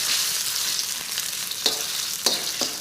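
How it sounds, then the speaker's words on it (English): Steady, close sizzling of vegetables, including carrots, stir frying in a hot pan, with a few sharp clicks and scrapes as they are moved around. "Once again, this is stir frying,"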